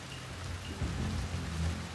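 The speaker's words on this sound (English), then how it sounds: "Curse this rain." Rain falls in the feudal-Japan stealth game Shadow Tactics: Blades of the Shogun, a steady, dense hiss of downpour with a low rumble swelling briefly near the middle and no voices.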